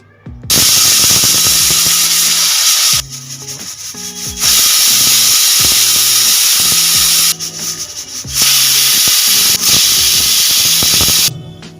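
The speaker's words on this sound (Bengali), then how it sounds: "এইবার কুকারের ঢাকনাটা লাগিয়ে 5টা সিটি লাগিয়ে নেব।" A pressure cooker of dal on a gas flame vents loud, steady bursts of hissing steam and whistling in three long blasts separated by short quieter gaps, close and alone with no talk.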